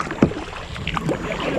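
Kayak paddling on the Grand River, with a soft paddle splash and light water swishes under wind noise on the microphone, quiet and close.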